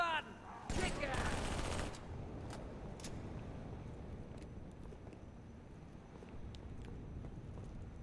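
Marines fight in Halo 3 with a dense, distant crackle of gunfire. An intense burst early on gives way to a continuous rumbling battle ambience.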